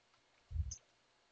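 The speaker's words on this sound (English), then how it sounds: "Just click the icon to open." Single soft mouse click on an application icon, faint and brief against near silence.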